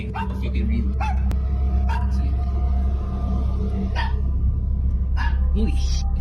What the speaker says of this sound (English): his dog suddenly starts barking at something outside